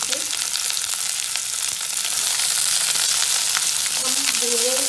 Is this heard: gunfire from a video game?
no